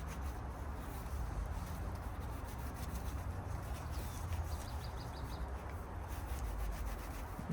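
Mango leaves are scrubbed with a rough, scratchy surface to remove bugs and mites, giving a steady, close, continuous rubbing and scraping without any talk.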